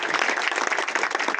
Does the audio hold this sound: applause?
yes